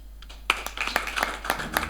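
A church congregation praises God with applause, a dense patter of many hands clapping that starts after a brief quiet moment and keeps going steadily.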